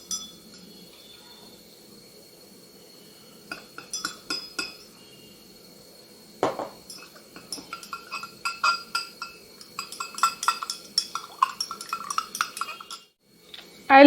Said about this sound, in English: Stir it properly.